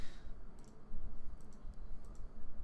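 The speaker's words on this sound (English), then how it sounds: "And we are clicking, click, click, click." A computer mouse clicking while someone works in Photoshop, several faint, light clicks scattered over a low room hum.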